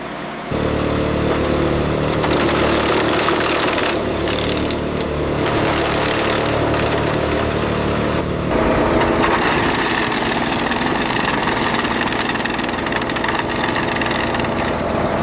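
A restored wood chipper engine runs steadily at target speed, a loud continuous mechanical drone with a deep low hum that shifts slightly partway through, close by and with no talking.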